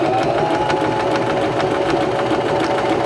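A Singer Start 1304 sewing machine runs steadily while sewing a buttonhole, a constant close motor hum with fast, even needle ticking, with no talk.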